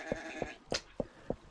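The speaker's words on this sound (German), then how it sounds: "Hier sind schon wieder 5000 Schafe." Sheep in the blocky sandbox game MineClone5 on Minetest give five short, evenly spaced bleats at a moderate level against a quiet background, with no speech over them.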